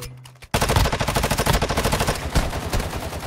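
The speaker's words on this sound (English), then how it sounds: "But I'm still getting shot at by other dude." Sustained rapid automatic gunfire in Warzone Mobile, a steady train of loud, close shots starting abruptly after a short quiet moment and continuing without pause.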